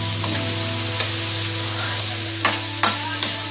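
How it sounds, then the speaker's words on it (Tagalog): Vegetables stir-fried in a hot pan with pork, steady close sizzling and frying hiss throughout, broken by a few sharp scraping stirs near the end. "Stir fry natin uli para hindi masunog ang ating mga vegetables"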